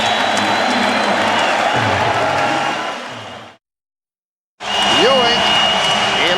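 A basketball arena crowd roars during a Rockets timeout late in the fourth quarter of Game 5 of the 1994 NBA Finals at the Knicks' home court. The cheering is loud and sustained, breaks off for a second, then returns with a whistle-like whoop on top.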